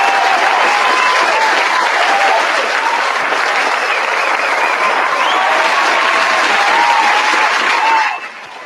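Dense, sustained audience applause from a large crowd, steady and loud for about eight seconds before tapering off at the end, with no talking over it.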